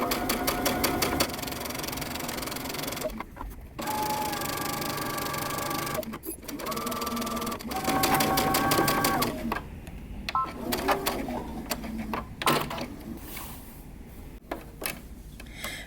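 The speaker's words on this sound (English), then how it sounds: "using your narrow zigzag stitch or a stretch stitch, we're going to stitch all the way around" Running a narrow zigzag stitch around a dress sleeve's edge on the free arm, a sewing machine whirs in repeated bursts of a few seconds each, loud and close, separated by short pauses and clicks.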